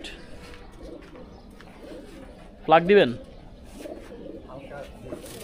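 Pigeons kept by a Bangladeshi pigeon fancier give a short, loud burst of cooing midway, standing out above a murmur of outdoor background noise while someone speaks briefly.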